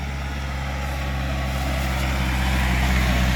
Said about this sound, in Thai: นี่ กระบะครับ